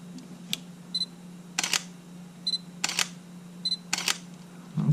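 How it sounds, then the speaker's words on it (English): A Sony A7 camera shutter fires repeatedly, each release a crisp double click spaced about a second apart, close and clear over a low electronic hum, with no voices. "that shutter sounds really nice"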